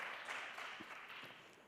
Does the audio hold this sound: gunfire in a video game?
no